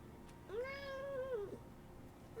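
One long, steady meow from a pet cat being patted, close and clear, about a second long, then quiet.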